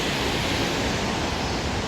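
A waterfall near Hallstatt village roars in a dense, steady wash of falling water, broad and unbroken, heard alone on a rainy day.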